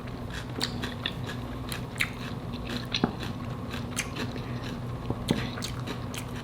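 Homemade fried coconut shrimp is bitten and chewed close up, a series of crisp crunches and crackles repeating every second or so over a quiet background.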